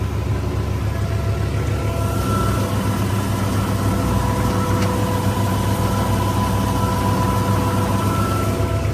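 A 3630 tractor engine runs steadily at a constant low diesel drone, loud and close with an unchanging hum throughout.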